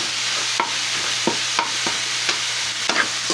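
Ground meat sautéing in a wok-style pan for pinakbet, with a steady loud sizzle and a spatula scraping and tapping the pan roughly once or twice a second, with no one talking.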